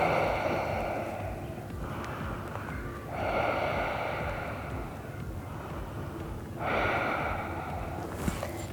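Slow, deep cleansing breaths taken while resting face-down on a yoga mat, three long airy inhale-exhale cycles, close and steady, with no talk.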